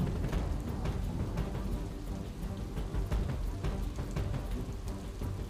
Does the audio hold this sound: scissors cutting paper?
no